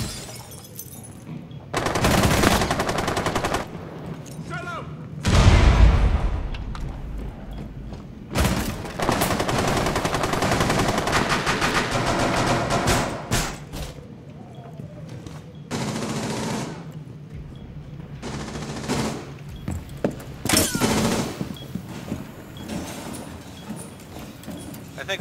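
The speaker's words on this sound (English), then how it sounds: "there's someone shooting all the way through at the bottom of the ladder" Bursts of automatic gunfire in the video game Rainbow Six Siege crackle repeatedly through the clip, some loud and close, others more distant, while players talk over the action.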